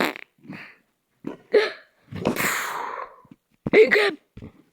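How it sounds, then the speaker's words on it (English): Repeated hiccups, several sharp gulping bursts with gaps between them and a longer breathy noisy stretch in the middle, close and fairly loud with no talking. "Hiccup."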